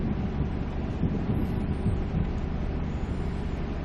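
Thunder rumbles loud and continuous in Euro Truck Simulator 2, a deep steady roar with no voices over it.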